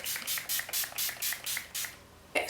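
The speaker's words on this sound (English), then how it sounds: "I'm going to spray my face with the Mario Badescu facial spray" A Mario Badescu facial spray mists onto a face in about eight quick, even hisses, each burst short and close, followed by a brief louder sound at the end.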